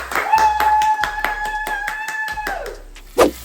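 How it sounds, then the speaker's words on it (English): Hand clapping in a home kitchen, a handful of sharp, close claps in a quick steady rhythm, followed by a pause and one final louder clap. "We can give Team Monty a hand clap as well."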